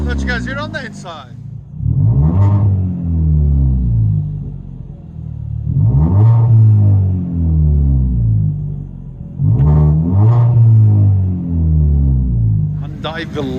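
A cammed LS3 V8 swapped into a 1995 Nissan 240SX, fitted with long tube headers and a Borla Pro XS exhaust, revs hard three times from inside the cabin, each deep roar swelling and fading back to a lumpy idle.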